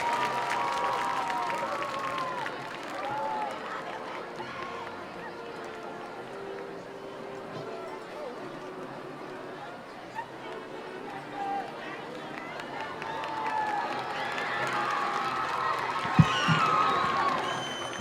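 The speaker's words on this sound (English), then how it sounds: "Let's give a round of applause for Daniela" Scattered applause and cheering from a crowd at a high school homecoming football game, Waco High versus San Angelo Central, heard moderately distant beneath an announcer's voice over the public address, with rising cheers near the end.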